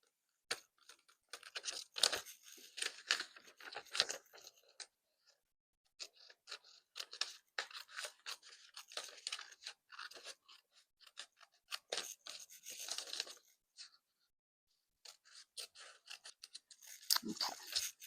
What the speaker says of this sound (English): I'm just going to cut that line